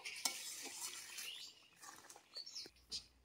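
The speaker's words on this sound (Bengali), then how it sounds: "ভিনিগারটা দিয়ে একটুখানি নাড়াচাড়া করে নেব" Mango pickle in oil being stirred in a pan over very low heat after vinegar goes in, with soft faint scraping and light clinks of the spoon, close but quiet.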